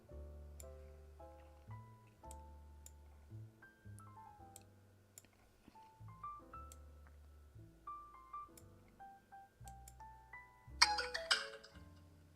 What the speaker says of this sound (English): thank you, phone, for reminding me that I'm live streaming